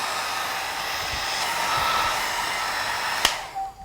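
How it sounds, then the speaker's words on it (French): A hair dryer blows steadily for several seconds to dry wig glue until it turns tacky, a continuous close whoosh that cuts off abruptly near the end, with no talking. "tu mets un petit coup de sèche-cheveux pour que ça sèche et que ça devienne bien collant"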